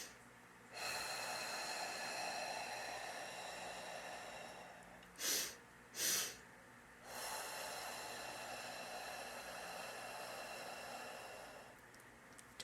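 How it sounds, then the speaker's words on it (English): A person does a slow breathing exercise: a long steady inhale, two quick sharp sniffs as a double inhale, then a long drawn-out exhale, close and soft with nobody talking. "a double inhale with a longer exhale"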